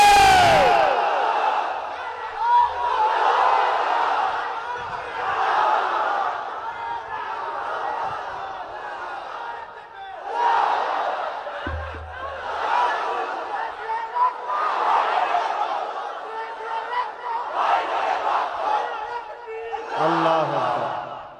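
A large crowd at a religious gathering chants in unison after the Nara-e-Takbir call, with repeated roaring shouts rising and falling in waves over about twenty seconds and a lead voice between them.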